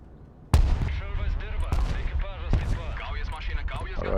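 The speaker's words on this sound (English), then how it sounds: "Alright, that artillery obviously sucks." Artillery fire in a video game, with sharp booming impacts at about 0.5, 1.8 and 2.5 seconds over a dense layer of continuous battle noise and rumble.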